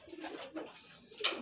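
Pigeons cooing softly, including cookies-and-cream and off-color birds in a loft, with low murmuring coos spread through a brief stretch and a brighter call near the end.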